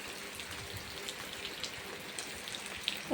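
Light rain patters steadily, soft scattered drops ticking on a surface with a faint broadband hiss, no voices.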